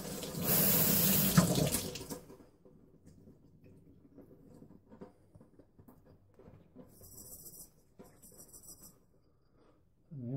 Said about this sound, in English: flush some of that fluid out, some of the bubbles.